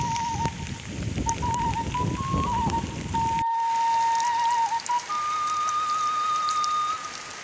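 Heavy rain falling outdoors in a rainy-season cornfield setting, a steady broadband wash that runs throughout, with a thin high whistle-like tone riding over it and a louder, fuller patch in the first half.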